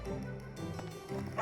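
A dog in the Fire Emblem Three Houses video game gives a couple of short yipping bow-wow barks over looping game music, brief and fairly clear.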